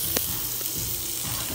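A buttered lobster tail sizzles on a tabletop grill at a Melting Pot restaurant, giving a brief, steady hiss of frying close by with no talk over it.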